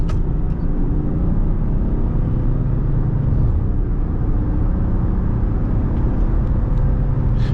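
A Range Rover Sport with a 3.0 V6 of 292 hp accelerates on the road, heard from inside as a loud, steady low engine rumble with road noise, no talk over it.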